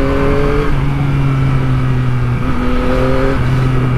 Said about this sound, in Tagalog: dumadaan ang mga sasakyan para maka-shortcut, makaiwas sa traffic